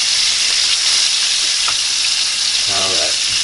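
Little bacon pieces fry in a pan with a loud, dense, continuous sizzle and crackle close up, while a voice briefly talks over it near the end.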